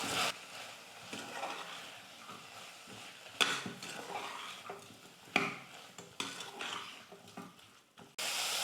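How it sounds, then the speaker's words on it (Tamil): Spices and masala sauté in a pan with salt for a rice dish, a low sizzle under repeated scraping and clinking of a spatula against metal. No voices. "இப்போ இது எல்லாத்தையும் சேர்த்து ஒரு 2-3 நிமிஷத்துக்கு நல்லா நம்ம வதக்கிக்கலாம்"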